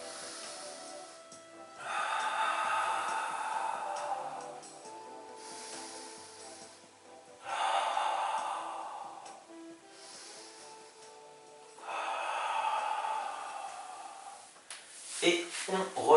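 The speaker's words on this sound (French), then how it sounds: "une dernière où on double la respiration" Slow, doubled breaths in and out during a Pilates exercise, heard as several long, soft breathy rushes spaced a few seconds apart, with faint background hum.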